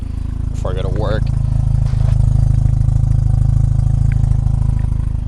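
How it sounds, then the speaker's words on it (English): Mazda RX-7 (FB) rotary engine idles slightly rough after its air pump was deleted with a Racing Beat plate, a steady close low rumble with a brief voice early on. "It's idling slightly rough because we deleted the air pump on the motor"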